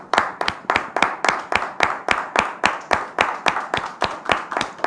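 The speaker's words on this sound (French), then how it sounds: "Sous vos applaudissements, s'il vous plaît." An audience claps steadily to welcome a visitor, Monsieur Roméo, with about a dozen loud, evenly spaced claps per second in a tight rhythm. The claps sound close and carry on for the whole stretch, with no talk over them.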